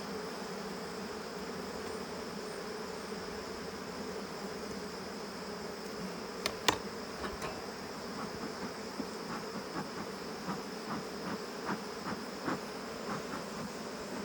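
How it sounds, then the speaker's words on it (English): Honey bees around a beehive during mite treatment, a faint steady buzz of many insects with a few brief louder passes near the middle and later, no talk. "Now I gotta get the bees out of the way"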